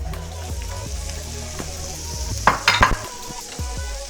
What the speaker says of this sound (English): I'm just gonna push everything off to the back of this pan, putting in some onion.